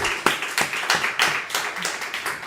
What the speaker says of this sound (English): we can do another round of applause for her